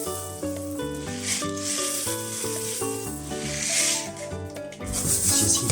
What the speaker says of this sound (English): let's get some coriander seeds on the pan